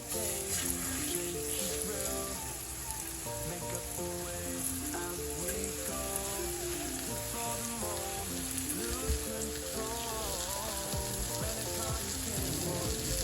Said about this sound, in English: You're gonna let that kind of sear on both sides.